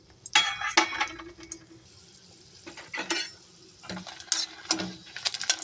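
Dried red chillies tossed into hot oil in a pan, sharp crackles and clinking stirs of a utensil in scattered bursts over a quiet sizzle, with no voices.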